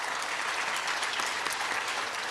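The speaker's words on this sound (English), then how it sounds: "honor all of these leaders with a round of applause again" An audience at a grand opening press briefing gives a sustained round of applause, a thick, steady clatter of many hands clapping at moderate loudness with no talk over it.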